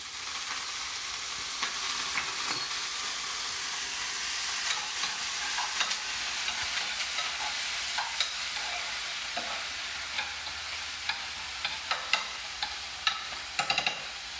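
Capers, olives and tuna warm in a pan with a steady gentle sizzle and occasional light stirring scrapes and taps, close and moderate in level, with no one talking.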